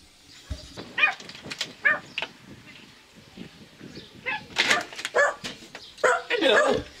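A pet dog at a family home barks in a string of sharp, irregular barks of varying loudness, fairly close, with a few faint quieter sounds between them and no clear talking.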